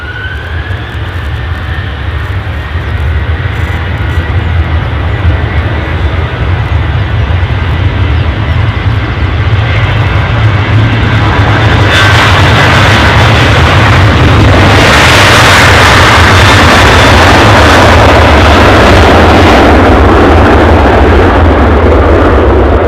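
Airliner taking off at Edinburgh airport, a very loud, steady jet engine roar with deep rumble that swells further midway as thrust builds, with no voices over it.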